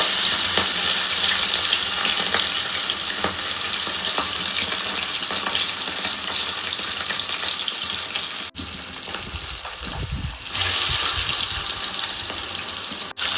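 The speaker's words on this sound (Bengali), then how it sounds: "এবার মাছগুলো এক এক করে আমি তেলের মধ্যে দিয়ে দেব" Bata fish sizzle and crackle in hot oil over a low gas flame, a steady dense frying hiss filling the whole stretch, with a brief clatter and dip near the end.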